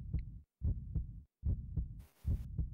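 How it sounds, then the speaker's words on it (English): A fast, thumping heartbeat from the Resident Evil Outbreak game pulses in quick paired beats, loud and close over near silence, with a short burst of hiss in between. "It's fast heartbeat"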